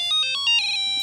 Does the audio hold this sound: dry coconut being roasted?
no